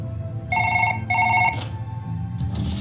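Telephone ringing in the video game Surgeon Simulator: two clear electronic rings in quick succession over a low background hum, followed by a short burst of clatter.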